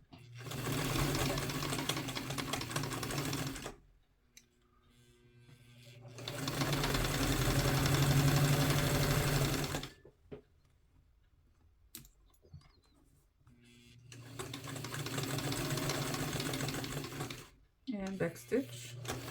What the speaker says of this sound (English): I'll forward stitch until I get to the end of the shoulder seam, and I will back stitch again